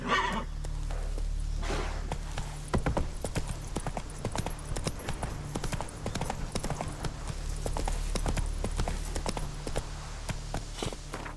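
The hooves of the ridden horse in The Witcher 3 clip-clop in a steady, close rhythm on the ground, with a neigh near the start and continuous game ambience underneath throughout.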